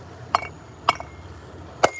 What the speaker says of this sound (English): we've smashed the bottle